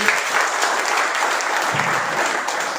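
Steady applause from an audience, many hands clapping at once in a dense, even patter that carries on without a break.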